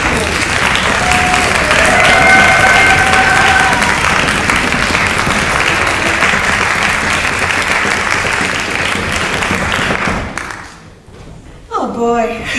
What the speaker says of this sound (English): So what I'd like to do is another round of applause and maybe some foot stamping as well